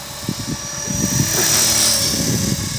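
An EXI 450 radio-controlled helicopter, a first 450-size build, flies nearby with a steady whirring rotor hum and a high-pitched motor whine that swells slightly as it passes, loud and continuous throughout.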